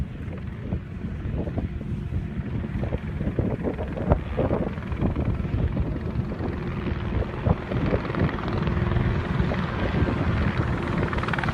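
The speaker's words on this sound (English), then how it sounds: "This helicopter doing challenging maneuvers while filming a movie scene for Fast and Furious 8." A helicopter flying challenging maneuvers for a movie stunt scene roars loud and close throughout, a constant rotor and engine drone buffeted by wind noise.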